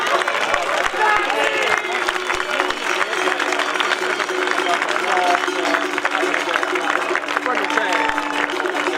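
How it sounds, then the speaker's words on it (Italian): An audience applauds and cheers at a skyrace award ceremony. Dense, steady clapping and crowd noise run throughout, with voices talking over it. "un grande applauso a questi tre matti"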